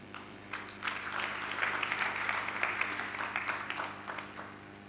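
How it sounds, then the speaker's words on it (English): Delegates at an African ministerial cooperative conference give a round of applause to welcome a speaker, moderate, fairly distant clapping that swells and holds over a low background hum. "Let's welcome her with a round of applause."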